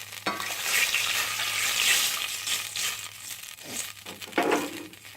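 Garlic frying hard in a pan for chili over heat left high, giving a loud, steady crackling sizzle with spattering pops that rises and falls over several seconds.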